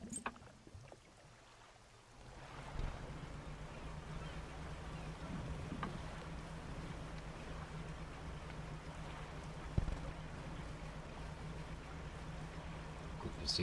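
A boat sailing on water in the game Dredge, heard as a faint, steady wash of water and hull noise that begins after a short quiet moment and continues evenly.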